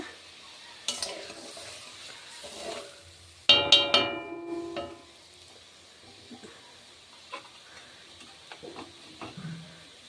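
Bhola fish being added to a spicy curry in a pan: a burst of clattering and sizzling as the pieces go in, then quieter stirring and scraping with occasional light clinks.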